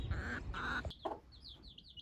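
A broody hen gives a few close, low clucks and throaty murmurs, followed by softer, higher chirps from nearby birds that trail off.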